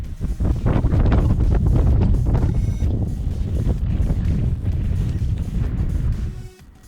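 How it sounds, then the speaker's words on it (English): Strong wind roars and buffets the microphone continuously on the summit of Deseret Peak, a loud rushing gust that eases slightly before dropping off at the end. "it's super windy up here"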